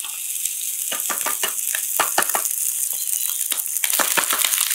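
Onions and brown rice fry in oil in a pan with a steady bright sizzle, broken by sharp crackling pops and stirring clicks up close.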